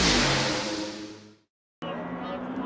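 Race cars in a Yokohama MPC race charge down into turn one, engines roaring loudly and then fading away, broken by an abrupt moment of silence before the engine noise cuts back in.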